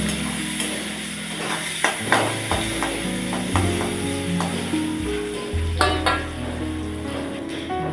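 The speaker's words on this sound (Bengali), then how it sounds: "পেঁয়াজটা ভাজা হয়ে গেছে" Chopped onions frying in a pan, a steady sizzle close by, punctuated by the scrape and clack of a spatula stirring against the pan, with no voices.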